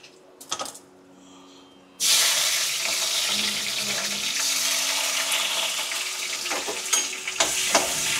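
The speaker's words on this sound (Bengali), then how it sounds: "ফোড়ন দিয়ে দিয়েছি।" Whole spices hit hot oil for tempering. After a quiet opening with a few small clinks, a sudden loud sizzle bursts in and keeps crackling and hissing steadily, with occasional stirring knocks near the end.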